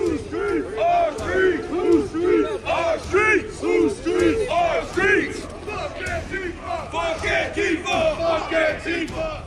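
A large crowd shouts and chants in rhythmic bursts near the US Capitol on January 6, loud and continuous, with many voices overlapping throughout.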